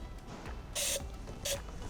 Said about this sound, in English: So what I do is I like to just put a little coating of spray paint